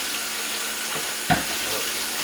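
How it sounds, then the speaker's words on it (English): A kitchen tap runs steadily while hands are washed under it, a close, even hiss of water with one brief splash or knock partway through and no voices. "let me wash my hands."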